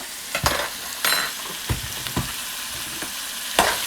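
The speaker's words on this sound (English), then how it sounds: "And let that cook for a minute. Just like to get them hot, brown a little bit." Potatoes with garlic fry in a pan: a steady close sizzle broken by several sharp scraping stirs, with no talking.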